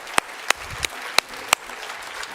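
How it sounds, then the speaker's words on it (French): A handful of separate, sharp hand claps ring out one by one in a church congregation during a pastor's sermon, sparse and uneven over a quiet room. "Applaudissez-le lui, parce que moi je ne l'ai pas fait."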